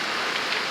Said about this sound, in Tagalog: sa lakas ng ulan na yan